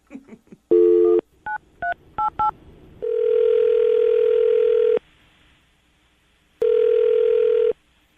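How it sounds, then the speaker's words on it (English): A telephone tone sounds, then a quick series of keypad dialing beeps, followed by two long ringing tones separated by a pause. "I'm going to dial the phone number right now"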